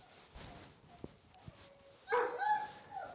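Faint whimpers from a Doberman come first, followed by a brief burst of high, whining barks and yips from the large dog, close by and otherwise quiet.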